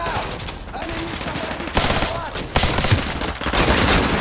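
Rapid bursts of automatic gunfire in Call of Duty 3, loud and close, with sharp shots clustering and breaking off, mixed with game voices and a player speaking over it.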